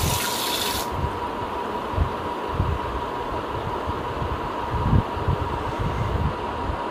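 Raw mangoes are washed under running tap water to clear the sap before making Andhra avakaya pickle, a continuous splashing rush with occasional louder splashes as the fruit is handled.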